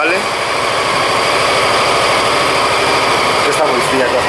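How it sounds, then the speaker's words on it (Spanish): A cold motorcycle engine idles steadily just after starting, with a close, even putter and a high mechanical buzz, while someone talks over it. "yo la arranco, la voy a arrancar ahora, la arranco la moto."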